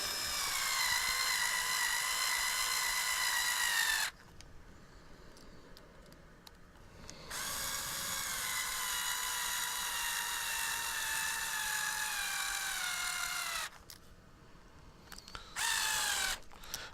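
A struggling electric screwdriver whines at high pitch while working on a TRX4 RC front axle tube, running in long bursts with pauses between, close and steady with no talk.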